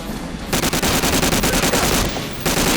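Rapid bursts of machine-gun fire in the World War II shooter Medal of Honor: Warchest, a loud, steady rattle of evenly spaced shots lasting about two seconds with a brief pause near the end.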